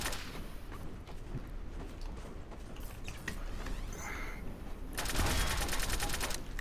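Rapid gunfire in the online game Trouble in Terrorist Town crackles in quick, dense bursts, faint at first and then a louder volley near the end, with no talk.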